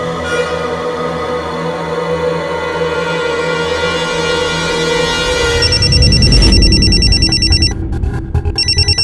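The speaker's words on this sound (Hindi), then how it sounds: "तुम्हारा फोन रिंग कर रहा था" A telephone rings loudly and repeatedly with a bright electronic tone, then the ringing changes character midway as rumbling noise rises beneath it.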